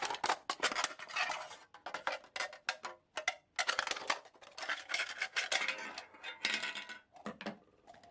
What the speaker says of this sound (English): we will simply use the scissors to cut off the top in this location